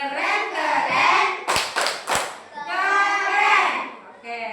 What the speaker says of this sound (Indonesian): beri tepuk tangan. Tepuk keren.